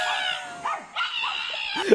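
A dog in the video game Avowed gives short, close yips and barks with whimpering tones, with a sharper yelp near the end over a quiet game background.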